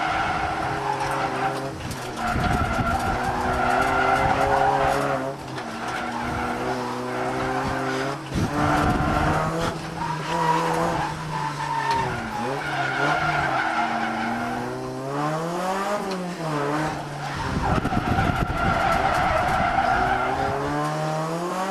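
Fourth-generation Honda Prelude drifting on a mountain touge road, engine revving hard and rising and falling through gears, with sustained tire squeal and skidding throughout, loud and close from inside the car.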